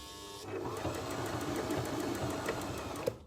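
A Janome HD2200 sewing machine in a school classroom sews a straight stitch, giving a close, steady, fast mechanical whirring with an even pulse.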